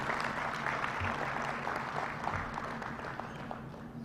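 An audience at a financial inclusion and literacy forum in Uganda applauds steadily, a dense, even wash of clapping from a large crowd that holds at a constant level throughout.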